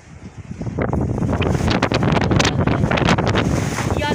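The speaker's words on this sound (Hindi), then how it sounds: "ओए होए कैसी तेज हवाएं चल रही है।" Strong, stormy wind blows around a house in a gale, roaring loud and steady and buffeting the microphone in continuous gusts.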